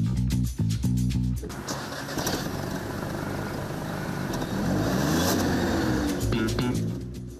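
An Audi A3 facelift with a 1.0 TFSI three-cylinder turbo engine starts up and settles into a steady, loud idling drone with a low throbbing hum.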